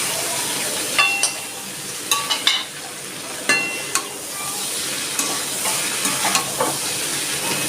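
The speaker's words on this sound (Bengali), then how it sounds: "দেখুন ছোট ছোট করে কেটে নিয়েছি, এই আমগুলো এখন আমি দিয়ে দিচ্ছি।" Chopped green mango goes into a sizzling fish roe curry, with a loud, constant frying hiss and scattered clinks and scrapes as the pieces are stirred in.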